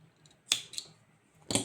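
Scissors snip through crochet yarn while finishing a gingerbread man appliqué, giving two or three short, crisp clicks close by in a quiet room.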